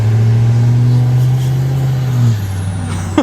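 A loud, steady Duramax L5P diesel pickup engine drones with a deep exhaust rumble through a 5-inch exhaust, then the pitch drops as it eases off, ending in a short hiss.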